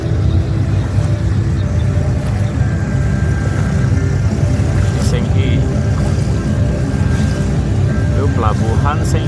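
A speedboat engine runs on the Kapuas River at Senghi harbor, a loud, steady motor drone with water rush throughout, with people talking faintly over it.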